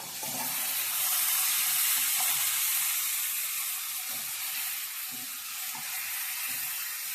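Dried curry leaves sizzle in hot oil while making Nellore pachadi, a steady bright hiss and crackle throughout, close and alone.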